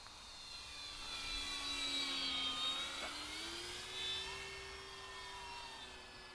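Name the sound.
E-Flite RV-7 RC airplane flying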